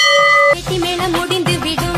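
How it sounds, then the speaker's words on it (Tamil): A temple bell rings outside with one clear sustained tone for about half a second, then gives way to singing with musical accompaniment. "கோயில் மணி வச்சுல அடிச்சிட்டாங்க போல"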